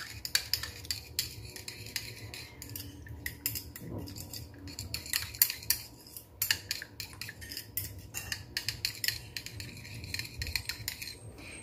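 A utensil stirring yeast into dough ingredients in a bowl, close irregular clinks and scrapes against the bowl, fairly quiet, with no talk.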